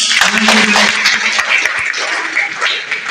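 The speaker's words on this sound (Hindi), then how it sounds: "तो एक बार उन जोरदार तालियां हो जाए।" At a Teacher's Day event in India, an audience claps loudly for a visiting guest, a brief, close burst of applause with a few voices mixed into the noise.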